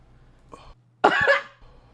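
A single harsh cough, close and loud, after a brief faint throat sound, with quiet moments around it.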